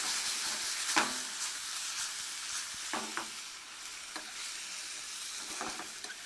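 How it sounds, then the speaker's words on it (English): Steady sizzling and hissing of vegetables stir frying in a pan with garlic and ginger, with a few scraping stirs of a utensil cutting through the continuous crackle. "And we're stir frying."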